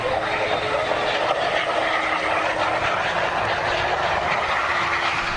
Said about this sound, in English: This is the moment of contact on the runway, shot from inside the cabin.